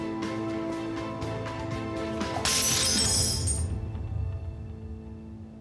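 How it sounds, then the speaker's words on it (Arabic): Glass shatters in an Arabic-dubbed TV drama: a bright crash of breaking glass with tinkling shards, ringing out over a sustained musical score and then fading. "انكسر الإزاز"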